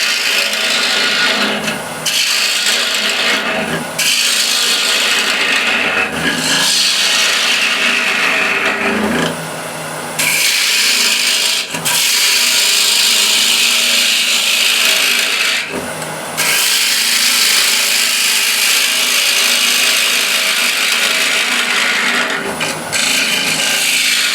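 Steady scraping hiss of a ball gouge cutting an 11-inch wooden plate turned from a nine-sided blank on a lathe, continuous and close with brief pauses between passes, no talk.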